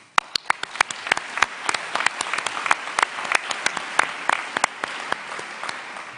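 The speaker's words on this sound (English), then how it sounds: "You all deserve a round of applause." At the 2017 NORD Rare Impact Awards ceremony, a room full of people bursts into applause: sharp, distinct claps stand out at first, then thicken into a fuller, lively ovation.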